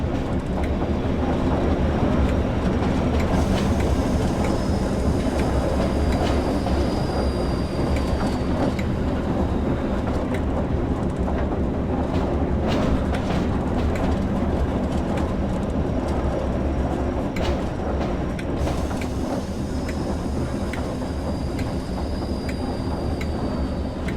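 A diesel locomotive on the Tees Valley Line in Train Sim World rumbles steadily along the rails, a loud continuous engine drone layered with faint wheel clatter and rail noise that lasts throughout.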